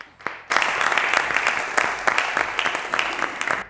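A studio audience at an Eid Lahore special talk show breaks into sustained applause that swells after a brief pause and carries on steadily for about three seconds, loud and close, with scattered sharper claps.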